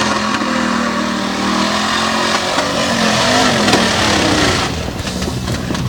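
Drag race car making its run, a loud sustained engine roar with rising pitch and rough popping, crackling texture, heard from nearby trackside.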